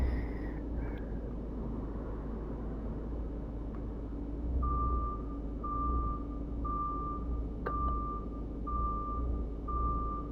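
A truck in a trucking video game backs a trailer while its reversing alarm sounds a steady run of evenly spaced beeps. The beeps repeat over a low, constant engine rumble.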